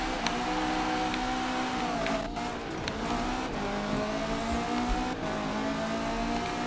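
A KTM X-BOW GT4 in Forza Horizon 4 drives hard with a steady, rising engine drone and a faint background hiss, without talk.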